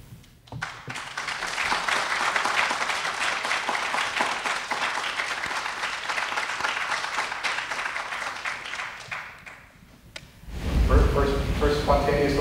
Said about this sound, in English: First spontaneous applause of the night.